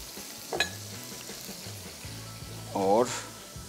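A fajita burger patty sizzles on a grill beside grilled onions, a faint steady crackle under someone speaking, with a couple of brief clinks and scrapes.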